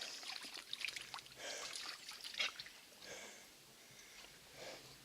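A dog laps water from a trickling creek at Big Sugar Creek State Park, faint wet slurping and dribbling over a steady stream murmur, with soft sniffs and brief quiet talk nearby.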